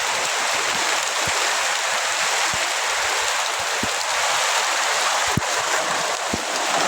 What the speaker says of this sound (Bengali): দেখুন প্রচুর বৃষ্টি হঠাৎ করে চলে এসেছে